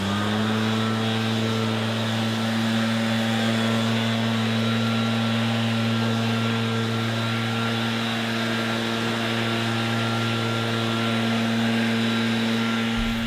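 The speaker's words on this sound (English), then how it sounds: "having a good blower makes all the difference" A leaf blower clearing fall leaves drones loud and steady at close range, its engine hum holding a constant pitch with a rushing airflow hiss, and no talk over it.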